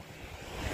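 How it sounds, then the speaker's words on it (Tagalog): Calm sea waves make a soft, steady wash, faint and brief, with light wind noise over the microphone. "Ang ganda ng dagat, kalmang-kalma."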